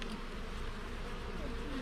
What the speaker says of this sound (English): Get out of my way, bee.